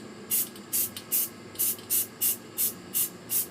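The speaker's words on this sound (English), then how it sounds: "You don't want to spray like heavily like the black. You want to stay nice and light, like a mist effect." Short, light bursts of spray paint from an aerosol can misting onto a surface, about nine even hisses in a steady rhythm, close and clear with brief pauses between them.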